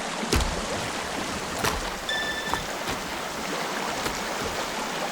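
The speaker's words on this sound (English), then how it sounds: "Because we're near this river and..." River flowing in the survival game Sons Of The Forest, a steady broadband rush of moving water with a few soft knocks and splashes, heard alone without talk.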